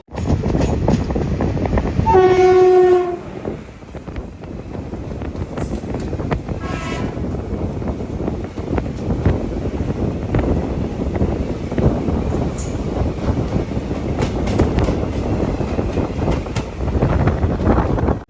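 The Mangaluru to MGR Chennai Central Mail train sounds a loud, sustained horn blast, then runs on with a constant rumbling roar of wheels and wind, broken by a second shorter horn call.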